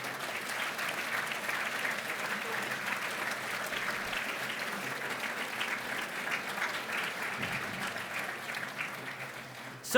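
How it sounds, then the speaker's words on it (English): A crowd at an awards ceremony applauds steadily for about ten seconds, a dense even clatter of clapping that carries on without pause. "please, a big round of applause to all of our sponsors"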